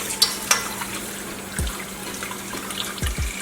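Cold tap water runs steadily over a red snapper in a kitchen sink, a close, continuous splashing flow with a few brief clinks and bumps of handling.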